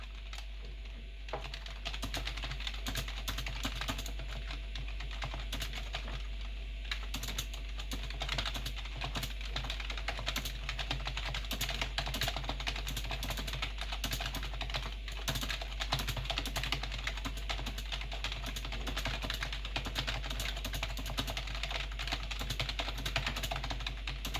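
Typing on a Gateway 2000 computer keyboard running MS-DOS, a dense, continuous patter of key clicks over a low steady hum, fairly quiet and close.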